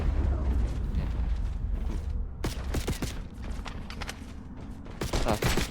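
Gunfire in the video game Call of Duty: Black Ops 6, with sharp individual shots and short bursts cracking over a rumbling battle background, fairly close, with a dense volley near the end.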